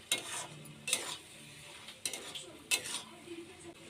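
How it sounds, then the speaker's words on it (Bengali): Soybean curry cooked with sugar and a spoon of ghee gets stirred in a pan, a few quiet scraping strokes of a spoon against metal spaced over a few seconds, with faint sizzling beneath. "দিয়ে একটু নেড়ে নেব।"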